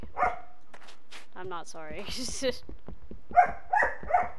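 A dog barks and whimpers nearby, mixing short yips and whines with sharper barks toward the end, while a person talks over parts of it.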